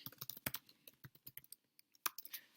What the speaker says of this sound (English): I can go in here and type some feedback